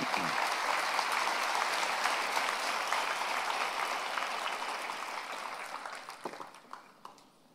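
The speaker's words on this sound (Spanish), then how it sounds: "Denle un aplauso al rey" Church congregation applauding during a Sunday devotional service, a dense sustained wash of clapping that holds steady then gradually thins and fades toward the end.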